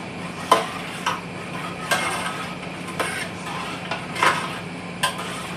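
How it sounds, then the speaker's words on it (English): A spoon stirs a mixture in a cooking pot with a series of separate scraping clinks against the metal, roughly one each second, close by with no talking. "we're gonna give that a stir right quick. We're gonna mix that up real good."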